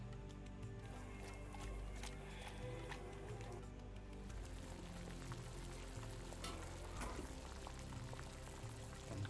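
Rat meat cooking over a wood fire outdoors, a continuous crackling sizzle with sharp pops and snaps from the burning wood, steady and fairly close.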